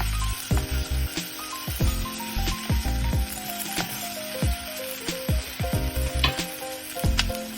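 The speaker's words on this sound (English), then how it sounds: "Add the potato, carrot, and atsage and cook for a few minutes." Potato, carrot and other vegetables frying in a pan for a vegan Japanese cream stew, a loud steady sizzle broken by repeated clinks and scrapes of a utensil against the pan.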